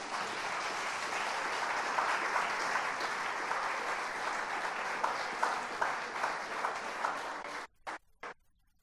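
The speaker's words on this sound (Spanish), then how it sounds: "Denle un aplauso a Él." A church congregation applauds: sustained, dense clapping from many people at a steady loud level, with a few scattered cheers, ending in a few last isolated claps.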